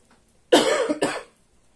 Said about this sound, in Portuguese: Até porque eu ainda tô tossindo muito.